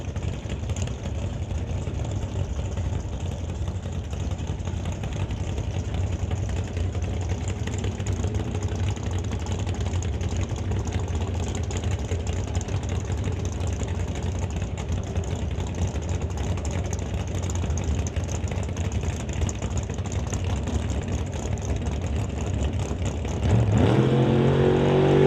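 Drag race cars, a 1966 Chevy II and a Cavalier, idle and rumble loudly at the starting line at an NHRA Summit ET Series race, a steady engine roar that swells into a sharp launch near the end.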